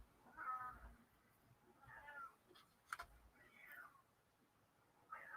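An indoor cat meows four times, each call drawn out and fairly faint against a quiet room, with a soft tick between the calls.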